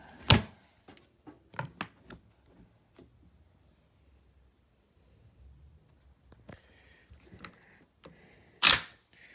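Straight-pull bolt of an M95 Mannlicher rifle worked by hand, a sharp metallic clack followed by several smaller clicks and rattles, then a pause and another loud snap near the end.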